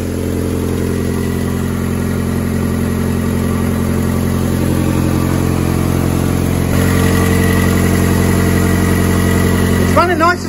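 A 1988 Volkswagen Polo MK2 breadvan engine idles steadily with the choke on, a close, even mid-pitched hum with a slight rise in level partway through and a brief clatter at the end.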